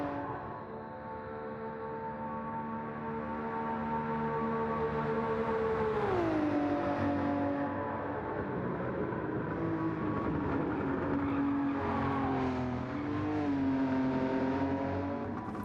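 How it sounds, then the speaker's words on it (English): A Nissan Skyline R34 GT500 race car in Gran Turismo 7 revs hard through the gears, its loud engine note climbing, dropping sharply at a shift, then rising again, with no voices over it. "I go a bit quiet to let you listen to the sound of the car"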